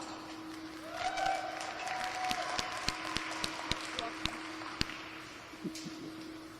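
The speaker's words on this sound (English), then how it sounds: "Go ahead and give them a round of applause." An audience at a county fair pig show claps, with scattered sharp hand claps over a low crowd murmur and a steady hum, fairly faint and spread across several seconds.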